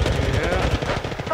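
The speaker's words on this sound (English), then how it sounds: "Being shot by a lot of people." Rapid automatic gunfire from several enemy squads in Apex Legends rattles in a fast, loud, steady stream of shots for a brief moment, with a voice faintly audible beneath.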